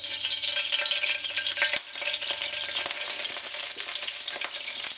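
Vegetable oil sizzles in a preheated pan, a loud, close, continuous hiss with brief scraping stirs, no talking.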